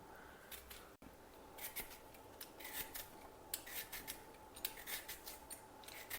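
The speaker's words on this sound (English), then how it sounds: "Then we can peel it." A peeler scrapes a sweet potato in short, rasping strokes, repeated in an irregular rhythm, close and fairly quiet with no talking.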